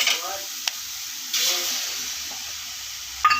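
A loud hiss as beaten eggs hit a hot pan, settling into steady sizzling, with a couple of sharp clinks of a utensil and faint speech.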